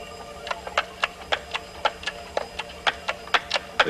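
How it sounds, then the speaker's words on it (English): An alarm clock sealed under a bell jar in a laboratory gives a regular series of sharp, muffled strikes, about three per second, moderately loud and steady. "The clock's still ringing."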